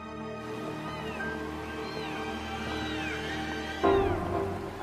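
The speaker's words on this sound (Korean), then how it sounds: "아저씨 고양이들이에요?" Several cats meow repeatedly in drawn-out, rising and falling cries over a steady background hum, with a louder burst near the end.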